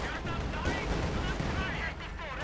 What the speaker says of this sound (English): As the coaxial machine gun and the main gun hammer away.